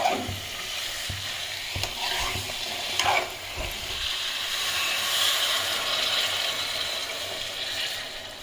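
Steady sizzling of fish frying in hot tempering oil, with a few scraping stirs of a spoon across the pan throughout.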